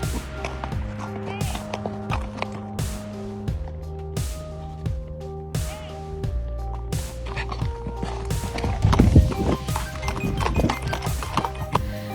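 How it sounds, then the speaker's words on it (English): A horse sprinting away, its clip-clop hoofbeats coming in a steady rhythm that loosens and scatters toward the end, heard over sustained tonal music. "That horse sprinting in the other direction sells that theory for me."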